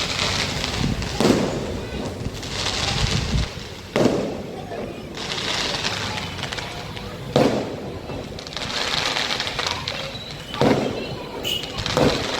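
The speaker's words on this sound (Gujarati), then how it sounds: "ભાઈ આ લગ્નના જ ફટાકિયા ફૂટે." Wedding firecrackers burst near a community hall at Yogi Chowk, Savaliya Circle: sharp, loud bangs about every three seconds over continuous crowd noise and voices.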